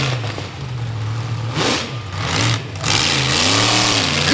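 Bennett Clark's monster truck Outlaw Clydesdale launches at an arena show in Augusta, Georgia. Its loud engine rises and falls through several hard revs with rumbling harmonics.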